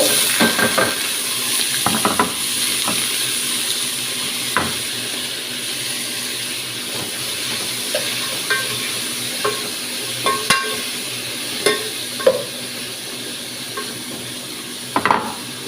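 Onions and curry leaves sizzle steadily in a pan while a spoon stirs and scrapes, with scattered clinks against the metal, the frying hiss constant and close throughout.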